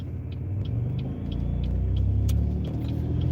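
A car pulling away smoothly from a traffic light, a steady low engine rumble that swells gently as it gathers speed, with no voices.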